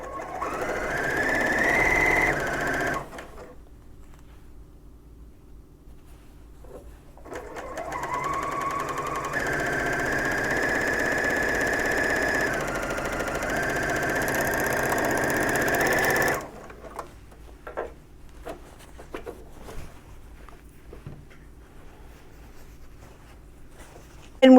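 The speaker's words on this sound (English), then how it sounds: "And we're sewing these together" A sewing machine stitches quilt rows together in two sustained runs, a short one at the start and a longer steady whir in the middle, followed by quieter clicks and fabric handling.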